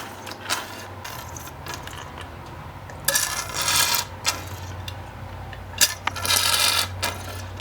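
A GSXR 600 fork damper rod is pumped by hand to bleed air, producing close metallic clicks and rattling bursts at irregular strokes, with a quieter background between them. No speech.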